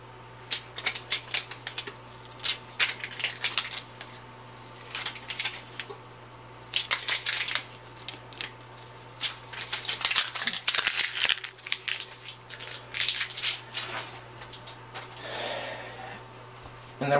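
DTF transfer film peeled off printed blue jeans: a series of crinkly ripping and crackling bursts, close and fairly loud, in irregular spurts with short pauses, no talking.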